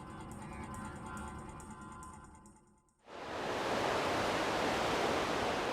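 Ocean surf rolls in at a Réunion beach where two surfers ride the waves, starting as a quieter wash with a brief lull, then bursting into a loud, steady roar of breaking waves that fills the rest of the moment.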